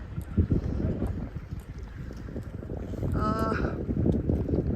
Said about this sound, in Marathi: थंडगार हवा सुटलेली आहे, मस्त वारा आहे थंडगार